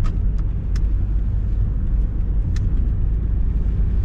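A 2007 Toyota Corolla Verso II with a 136 hp D4D diesel engine cruising along, giving a steady low road and engine rumble from inside the cabin, with no radio on and no voices.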